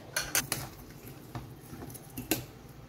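Utensil scraping and clinking against a pan as a sweet sugar mixture with salt and cardamom is stirred, a few sharp metallic clinks spread irregularly over a soft background, no talking.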